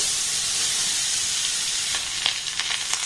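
Grated carrot hisses in hot melted ghee, a steady broadband sizzle with a few brief crackles and stirring scrapes toward the end, close and fairly loud with no talk.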